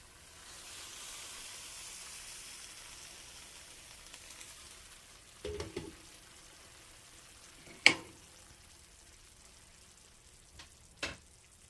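Zucchini boats stuffed with lean ground beef steam and sizzle softly in a covered pan, a low steady hiss broken by a few sharp clicks and knocks of the lid and utensils.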